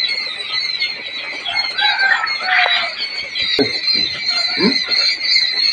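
A flock of quail in a hatchery call continuously, with dense overlapping chirps and clucks close by and no speech.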